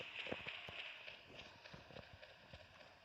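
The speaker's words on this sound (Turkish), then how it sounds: "Ayak sesi burada şunlardan. Bunlar kaçıyor." Animals in the Carnivores Ice Age video game flee on foot, their rapid, faint hoof-like footfalls pattering in an irregular run under a hissing ambient background.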